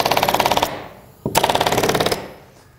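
An automatic staple gun fastens insulation mesh to wall studs in two rapid bursts of sharp, evenly spaced mechanical clacks, each run lasting under a second, separated by a brief pause.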